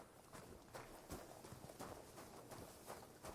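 Hooves clip-clop in a quick, regular rhythm, a horse trotting at moderate distance in the video game Kingdom Come: Deliverance 2, with soft background noise.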